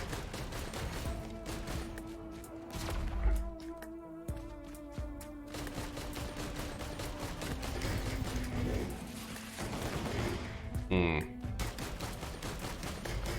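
Rapid gunfire from shooting enemies in the video game Risk of Rain 2, bursts of shots crackling steadily through a confined arena with game music and effects underneath, a voice talking over parts of it.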